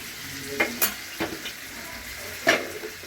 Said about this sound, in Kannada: ಒಟ್ಟಿಗೆ ಫ್ರೈ ಮಾಡ್ಕೊತಾ ಇದ್ದೀನಿ.